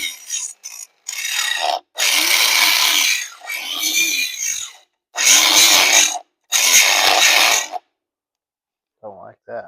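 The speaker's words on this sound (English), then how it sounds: "I'm using a Harbor Freight grinder" A Harbor Freight angle grinder grinds metal in loud, close bursts of harsh rasping, several passes of one to two seconds separated by short pauses, with a brief voice near the end.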